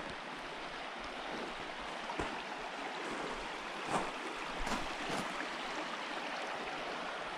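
Steady broadband rush of a river flowing right beside a mountain bivouac campsite in the Jizera Mountains, continuous and fairly close with a few faint soft knocks, no voices.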